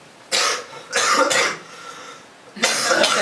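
A few short, rough coughs in quick bursts, close to the microphone, with brief quiet gaps between them.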